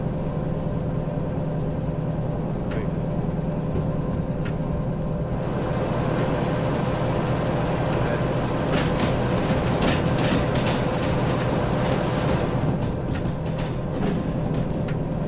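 A train rolls along rails in the railway simulation game Derail Valley, played in VR: a loud, steady rumble with rhythmic clickety-clack from the wheels, continuous throughout and heard alone.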